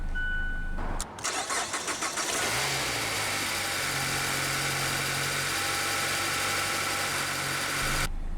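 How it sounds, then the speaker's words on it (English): Push-button start of a 2019 Mazda MX-5 Miata RF Grand Touring: a brief starter crank catches into a steady, close engine idle that holds for several seconds with no talk. "go ahead and start the engine, and along with Smart Key, it does have push button start"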